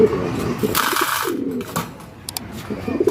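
Young pigeons in a loft, soft low cooing scattered through the moment, close by, with a brief whirring rasp in the middle and some faint background movement.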